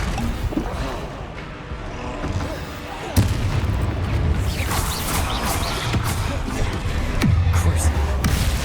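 Incendio fire spell cast in the open-world game Hogwarts Legacy: a noisy, crackling rush of game effects broken by two sharp, heavy booming impacts, with a voice mixed underneath.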